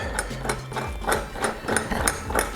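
The clamp on a drill press is released amid a series of sharp metallic clicks and knocks at an irregular rhythm, with a low mechanical hum underneath, close and moderately loud.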